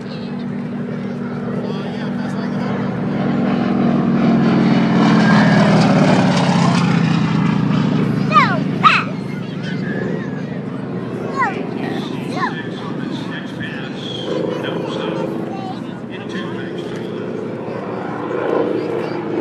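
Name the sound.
air show plane flying past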